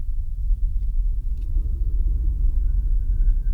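A car drives steadily into a village of manufactured homes in The Villages, Florida, its low engine and road rumble continuous and close throughout, with no talk.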